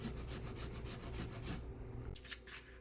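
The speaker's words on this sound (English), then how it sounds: "now we're grating a teaspoon of the fresh ginger" Fresh ginger grated with a spoon for a Thai curry butternut squash bisque, giving a steady close scraping rub for about a second and a half before fading into quieter kitchen handling.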